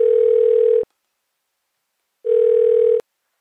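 A telephone ringback tone while calling a childhood friend named Tommy on a TV quiz show, two loud steady buzzing tones with a silent gap between them, each ending with a click.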